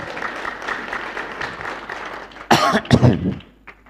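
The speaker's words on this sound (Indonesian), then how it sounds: "Ya, saudara boleh tepuk tangan." A church congregation claps in scattered, soft applause, then a louder burst of clapping follows with a few coughs before it fades out.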